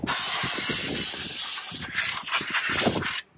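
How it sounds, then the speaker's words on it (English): A compressed-air duster can blasts dust out of an old storage-unit computer case in a series of loud, close hissing bursts that pulse unevenly before cutting off. "let's have some fun with the old duster can"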